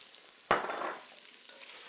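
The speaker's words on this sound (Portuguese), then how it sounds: "E deixem isso fritar junto." Beef chunks dusted with flour fry in a hot pan for a Boeuf Bourguignon, a sudden loud sizzle bursting up as the meat and flour hit the fat, then easing to a steadier, quieter crackle with no talking.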